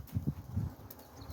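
A few soft, muffled hoof thuds from a horse walking at an easy pace, faint against outdoor background noise.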